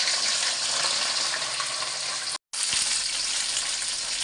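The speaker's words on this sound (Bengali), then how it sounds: "চুলায় তেল গরম দিয়ে দিছি, ভেন্ডি দিয়ে দেব। ভেন্ডি একটু ভাজে নিব।" Okra frying in hot oil on a stove, a loud, steady close sizzle with a brief cut partway through and a light clink afterward.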